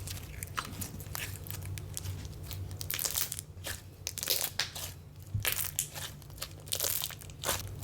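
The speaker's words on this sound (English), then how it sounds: "getting some good bubbles in there so that I can get some really crispy and crunchy pops." Dense, crispy crackling and popping from squished butter slime, a steady run of close, sharp crunchy pops with no talking.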